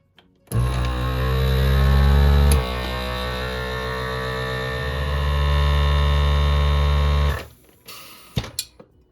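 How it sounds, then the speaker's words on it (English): A FoodSaver vacuum sealer pumps air out through its accessory hose attachment, a loud steady motor hum near the mic running about seven seconds, dipping briefly partway through before cutting off, followed by a few faint clicks. "it's going to take longer to suck all that air out and vacuum seal it"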